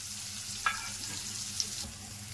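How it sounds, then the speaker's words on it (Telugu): Curry leaves, a large sliced onion and four green chillies fry in a pan for a gongura curry, giving a soft steady sizzle with a couple of brief utensil clicks. "ఇలాగా మనం బాగా వేయించుకోవాలి"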